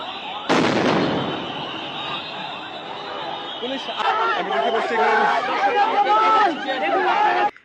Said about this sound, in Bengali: পুলিশের পক্ষ থেকে কিন্তু কমান এবং সাউন্ড গ্রেনেড নিক্ষেপ করা হয়েছে